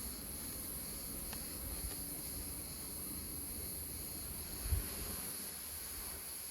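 Honeybees from a strong colony drone steadily at an opened tiered hive during an inspection, a faint continuous hum with one brief low thump partway through.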